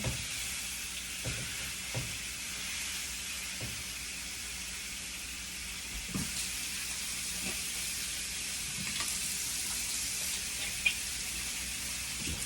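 Apple cinnamon pork chops sizzle steadily in a frying pan, a continuous bright hiss with faint low knocks from the pan now and then, close and alone without talk.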